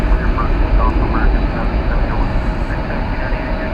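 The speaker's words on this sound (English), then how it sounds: "it's American Flight 2993 to Salt Lake City and Airbus A321" An American Airlines Airbus A321 on American Flight 2993 to Salt Lake City roars as a broad, steady jet engine rush at DFW Airport, loud and sustained, with faint voices underneath.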